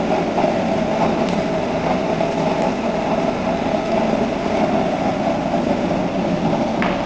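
A heavy-duty used-oil stove burner with a 4-inch nozzle roars continuously while boiling water, a dense, steady rumble close by with small irregular pops of backfire.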